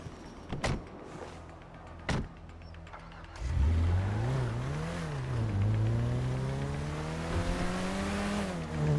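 A car driven in Grand Theft Auto V: after a couple of door or mechanical clunks, the engine note rises and dips steadily as the vehicle accelerates and cruises, loud and continuous to the end.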